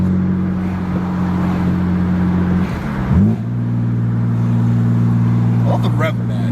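A car drives along a dusty road with a steady, loud engine drone heard from inside the cabin, dipping briefly midway as the gear changes and the revs are matched, then holding on. A person talks over it.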